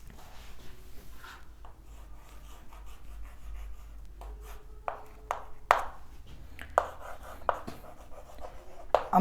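Chalk or a marker writes an answer on a classroom board in a lecture on solid-state chemistry, with scattered close taps, short scratchy strokes and small knocks coming in irregular bursts over quiet room noise.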